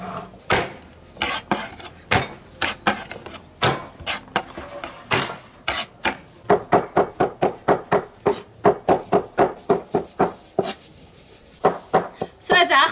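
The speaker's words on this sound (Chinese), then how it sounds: "煮排骨的时间刚拨了一点蒜，现在剁碎" Knife chopping garlic on a cutting board in a home kitchen, a long run of sharp, evenly spaced chops that come faster and denser toward the end, close and loud.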